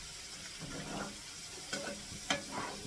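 Chicken and mushroom gravy stirred in a pan as liquid is worked in, a steady soft scraping and swishing with a faint sizzle underneath and a couple of sharper clicks of the utensil.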